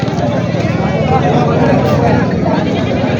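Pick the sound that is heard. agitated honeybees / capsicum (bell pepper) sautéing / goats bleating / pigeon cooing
goats bleating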